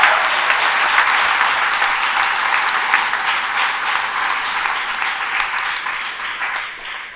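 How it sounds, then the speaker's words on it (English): Wedding guests give a sustained round of applause, a dense, steady wash of clapping that fades slightly toward the end, with no speech over it. "That deserves another round of applause."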